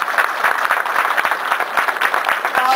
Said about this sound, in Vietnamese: chúng ta vỗ tay hoan nghênh tất cả Phật tử